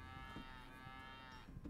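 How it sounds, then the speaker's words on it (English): A bull mooing in the video game Deponia, one long sustained low moo with a drawn-out tonal call, clear and alone over a faint game background. "Something said moo moo."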